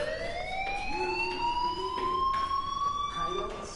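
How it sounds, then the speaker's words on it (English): Fire alarm ringing in the video game Life is Strange, a steady electronic tone that slowly rises in pitch across the whole stretch, fairly loud, with faint background game sounds under it. "Hey, do you hear that fire alarm?"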